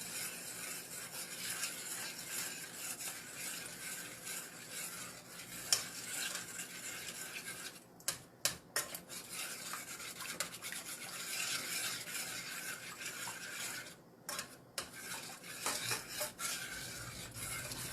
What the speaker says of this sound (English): let's get my spoon here, stir that in